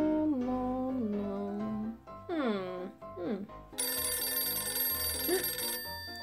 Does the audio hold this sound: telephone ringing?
yes